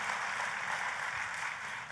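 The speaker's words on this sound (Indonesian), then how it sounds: "Ayo kita kasih tepuk tangan yang meriah buat Tuhan kita." A church congregation applauds in praise, a steady wash of many hands clapping together that holds at an even level throughout.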